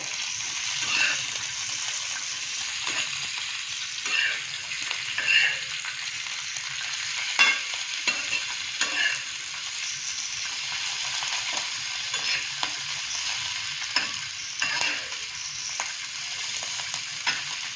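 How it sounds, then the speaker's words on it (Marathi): Green chillies and garlic frying in a pan for kharda, a steady close sizzle with soft crackles and occasional stirring sounds. "लसूण टाकून थोडंसं परतूयात"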